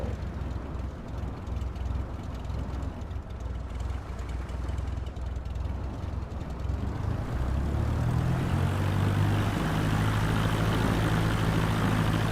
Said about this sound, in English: welcome to Microsoft Flight Simulator, flying the Cessna 172